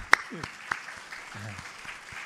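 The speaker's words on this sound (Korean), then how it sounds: "예배 시간에 그분들만 위해서 박수 한번 칩시다" Scattered hand claps in a church during a Sunday service, a couple sharp and near, others soft and sparse, with a low voice murmuring briefly underneath.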